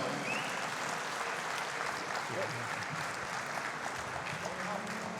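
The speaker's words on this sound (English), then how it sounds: "give it again a big round of applause for an armbar as well, like Robert Peter" A crowd at a professional jiu-jitsu event in Ireland applauds after an armbar submission, a continuous, fairly quiet wash of clapping from a distant audience with faint voices mixed in.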